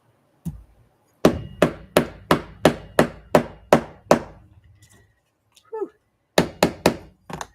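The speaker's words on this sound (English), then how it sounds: "we'll get our hammer out here and tap this sucker down." A run of about a dozen sharp hammer taps in steady rhythm, a pause with a breathy exhale, then four more quick taps.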